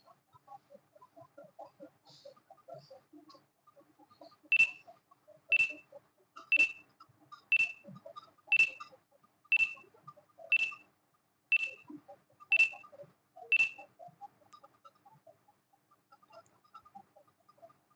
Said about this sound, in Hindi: फिर भी मैं आपको टाइमर दे रही हूँ